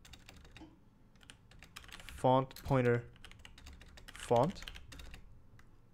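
Rapid clicking keystrokes on a computer keyboard patter quietly throughout, with a voice speaking briefly over the typing.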